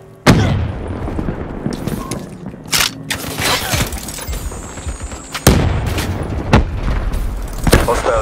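Frag grenade blasts and gunfire in Call of Duty Black Ops III multiplayer, with sharp loud bursts at the start, middle and near the end over a continuous dense din of battle, with some voices mixed in.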